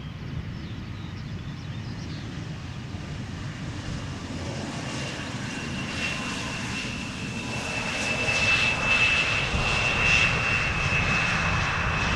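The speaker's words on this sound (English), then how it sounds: "KLM Flight 1352, Embraer 175 arriving from the Czech Republic" A KLM Embraer 175 jet airliner arriving at Schiphol Airport roars steadily overhead, its engine noise swelling louder toward the end with a thin high whine.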